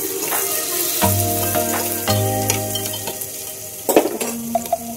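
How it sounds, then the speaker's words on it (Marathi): Chopped onion and cumin seeds sizzle and crackle in hot oil in a pan, with a steady frying hiss, stirring and occasional utensil scrapes, close and fairly loud, no voices. "पहिला कांदा टाकते, जिरं टाकून घेते आहे"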